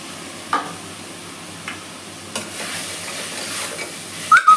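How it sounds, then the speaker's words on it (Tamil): Tomatoes sauté with mint and coriander leaves for mutton biryani, producing a low, even hiss with a few scattered spoon taps and a cluster of sharper knocks at the end. "வதக்குனதுக்கப்புறம் நம்ம தக்காளி போட்டு நல்லா வதக்கலாங்க."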